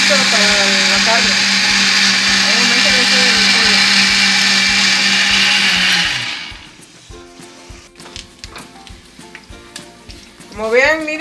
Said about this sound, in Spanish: Estoy moliendo el chile para la carne.